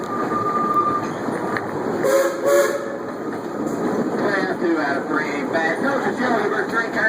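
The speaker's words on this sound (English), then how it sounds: "Ichabod, give us 3 toots on that whistle up there." A train whistle toots three short times over the steady rumble and clatter of a moving train, heard from the running board, with voices talking nearby.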